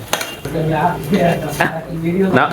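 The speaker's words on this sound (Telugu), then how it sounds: "ఇప్పుడు అల్లం వెల్లుల్లి పేస్ట్ ఓ కలుపుతా ఉన్నాడు" Spoon stirring ginger garlic paste into a metal pot for Ankapur chicken curry, clinking and scraping against the pot, close up, with faint voices in the background.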